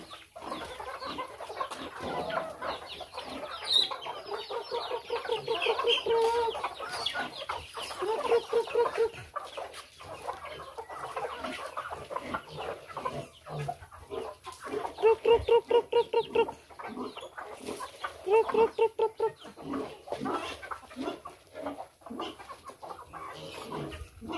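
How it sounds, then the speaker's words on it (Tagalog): Chickens cluck and chirp nearby in repeated bursts, with higher peeping of chicks mixed in and no talking. "update muna tayo sa ating alagang manok at saka yung mga sisiw"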